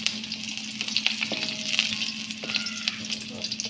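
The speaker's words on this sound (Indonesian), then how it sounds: "kita tumis sampai naik wangi." Spices being sautéed in oil until fragrant: a continuous close sizzle with soft intermittent scrapes and a few faint tonal clinks, steady and moderately loud, with no one talking.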